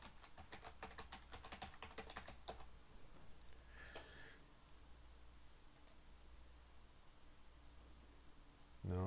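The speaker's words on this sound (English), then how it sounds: "I typed in Google." Quick bursts of clicking keystrokes on a computer keyboard patter close and quiet for a couple of seconds, then trail off into near silence with a few stray clicks.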